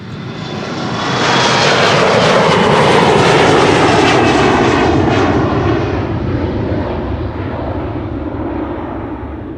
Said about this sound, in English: This is KLM flight 1711 to Luxembourg, an Embraer 175